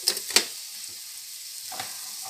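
Tender okra fries with chili powder in a pan, a constant sizzle broken by a few sharp stirring scrapes near the start and again later, with no talk.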